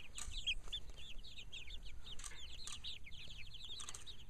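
Barred Rock chickens in a mobile chicken run, soft chirpy clucks and trilling calls repeating quietly against a low outdoor background hum.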